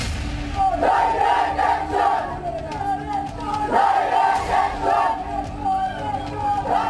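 A mob of radicals attacking Hindu homes and shops at night in Sylhet, Bangladesh, heard as a loud roaring crowd with rising shouts and battle cries that surge in waves, chaotic and close.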